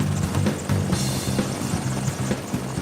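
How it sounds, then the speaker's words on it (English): A rescue helicopter used by intensive care paramedics in New South Wales flies nearby, its rotor beating in a steady, loud chop with a continuous engine whine. "He swapped his ambulance for a helicopter."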